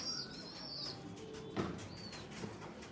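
Pigeons in a breeding setup coo softly and flutter their wings nearby, with a few thin chirps and calls mixed into quiet background noise.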